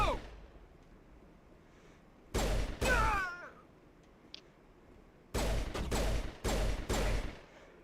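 Pistol fire in Mass Effect comes in loud, sharp bursts: a quick pair of shots, a quiet pause, then a string of four rapid shots, each with a short ringing tail.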